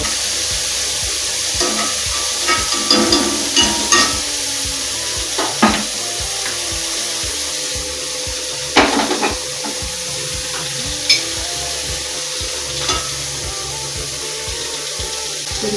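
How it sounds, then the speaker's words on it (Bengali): Chopped onion, green chili and garlic frying in hot mustard oil in a kadai, a steady close sizzle with occasional sharper crackles and stirring clinks, no talking. "এবার পেঁয়াজ, লঙ্কা আর রসুন কুচনোটা দিয়ে দিলাম।"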